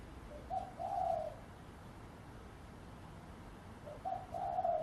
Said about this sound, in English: Now the doves are cooing